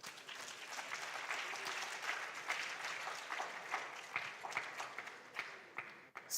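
An audience at a junior science and maths quiz championship applauds a school team, dense sustained clapping from many hands that continues throughout and fades slightly near the end.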